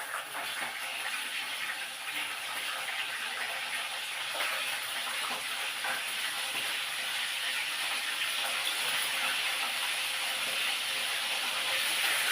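Galunggong (scad fish) frying in oil, a steady broadband sizzle and hiss that holds for the whole stretch, close and fairly loud.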